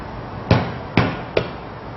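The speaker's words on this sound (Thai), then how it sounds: "ตะไคร้เราก็นำมาทุบหน่อยนะคะ ทุบค่ะนะคะทุบพอให้แตกแตกให้แตกนิดนึง" Lemongrass stalks are pounded to crush them in a Thai kitchen: three sharp, hard thuds about half a second apart, close and distinct against a quiet background.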